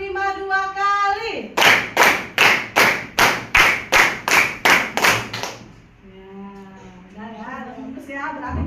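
A classroom of children claps in unison, about ten sharp, evenly spaced group claps in quick steady succession, bracketed by a teacher speaking before and after.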